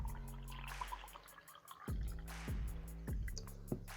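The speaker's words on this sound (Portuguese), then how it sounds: "Vamos acrescentar um pouco de água." Water is poured into a container holding salt and sugar, a few short splashing pours and drips in close succession, near and fairly clear against a quiet background.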